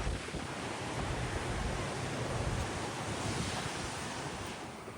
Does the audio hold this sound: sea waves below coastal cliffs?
yes